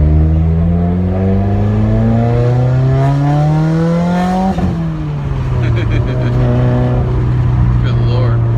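Straight-piped 2015 Subaru WRX exhaust at 90% throttle, a loud, close, rising rasp that climbs through the revs, drops at the shift and then holds a steady drone.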